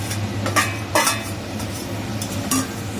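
Fish and potato pieces are stirred into a cumin curry in a pan, with a steady simmering sizzle broken by a few sharp clinks and scrapes of a spoon against the metal.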